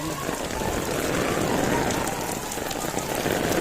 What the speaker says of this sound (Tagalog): Salamat umulan din.